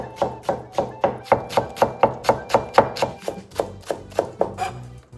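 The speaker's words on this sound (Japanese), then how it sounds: "白ネギをみじん切りにしておきます" A knife finely chopping white Japanese leek (negi) on a cutting board, close and crisp, in a steady run of about twenty evenly spaced cuts that slows slightly toward the end.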